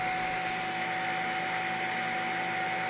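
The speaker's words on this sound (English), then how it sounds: "The UWANT is gonna be a little louder. It was right around 72 decibels, but that's to be expected since it does have a larger motor." A UWANT mattress vacuum cleaner with a large motor runs steadily at close range, giving a loud, continuous whirring hiss with a constant high whine and no speech over it.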